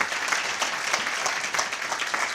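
A dinner audience at a United Nations Day gala claps steadily, a dense, even wash of many hands that holds at a moderate level throughout with no voices over it.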